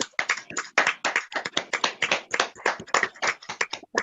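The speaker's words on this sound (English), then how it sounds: "can we all unmute for 1 minute and thank Brother Gonza with a clap" Online audience applause during a lecture, a steady stretch of many hands clapping at once, the claps dense and overlapping and fairly loud, with no speech.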